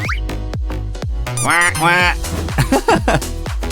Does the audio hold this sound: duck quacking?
yes